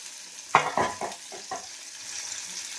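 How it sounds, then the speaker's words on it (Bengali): Fish coated in gram flour frying in hot oil, several sharp clatters and stirring scrapes from a pan early on, then a steady soft sizzle, close with no talking. "এখানে তো দেখুন মাছগুলো দেখুন কি সুন্দর ভাজা হয়েছে"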